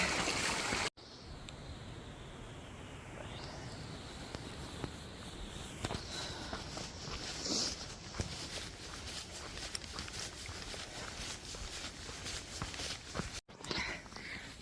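A small stream runs beside a rough, slippery trail on a cold, rainy day, giving a steady, close-up rushing trickle that holds an even level throughout, with a few faint scuffs on top.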